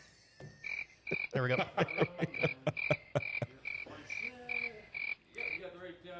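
Repeated short cricket chirps sound at a steady, even rhythm, fairly prominent, while several people talk loudly over and between them.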